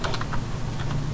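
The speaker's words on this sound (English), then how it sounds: "And now I can type" Quick keystrokes on a computer keyboard, several light clicks in an uneven burst, set close over a low steady hum.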